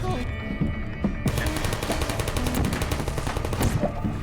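Rapid gunfire bursts from turrets in the video game Portal, a dense, sustained rattle of shots over a busy game soundtrack, loud and continuous throughout.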